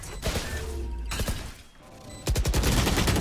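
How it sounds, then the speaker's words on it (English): Gunfire in a pro Valorant match between 100 Thieves and Luminosity: loud, rapid bursts of shots with sharp cracking impacts, broken by a brief lull before another heavy volley. "you just got riddled with bullets, homie"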